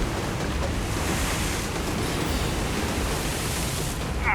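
Heavy ocean surf breaks continuously against a rocky shoreline where barracuda are being fished, a dense, steady roar of crashing swell and wash that fills the whole stretch, loud and close, with wind buffeting the microphone and no one speaking.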